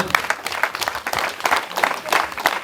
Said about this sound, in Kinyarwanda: Abasaza mubongera amashyi menshi cyane.